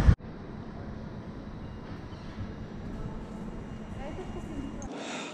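Steady low rumble of a train at Lübeck station, continuous and fairly loud, with a sharp clank at the start and no speech.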